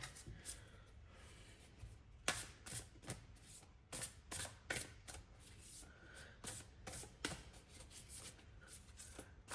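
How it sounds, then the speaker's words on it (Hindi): Tarot cards being shuffled by hand close up, with a quiet, papery riffle and irregular soft slaps in uneven bursts. "तो चलिए यहाँ पे मैं कार्ड्स शफल कर लेती हूँ।"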